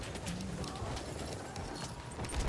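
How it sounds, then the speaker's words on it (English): Hooves clatter in a rapid galloping rhythm amid a dense, busy background of Battlefield 1 battle noise on the Tsaritsyn map. "Did I hear a horse?"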